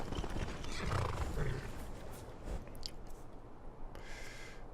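A horse in the video game Skyrim makes soft, quiet sounds, with faint hoof clopping and a brief snort or whinny against low background noise.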